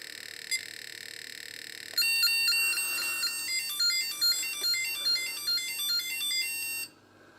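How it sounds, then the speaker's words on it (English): A 1981 Tomytronic 3D Shark Attack handheld electronic game plays its game over tune: a short beeping melody of stepped square-wave notes after a single earlier blip, cutting off abruptly into near silence. "you'll be able to hear the game over tune"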